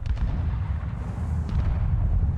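A vehicle's gun fires in the video game War Thunder, heard as a low, heavy boom rolling under steady rumbling engine noise, with no talking.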